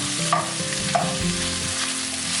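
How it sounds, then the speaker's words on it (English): Mussels with ginger and garlic being stirred in a hot pan, a steady close sizzle and splutter with a couple of sharp scrapes as the spoon moves through. "I'm going to mix it all up together."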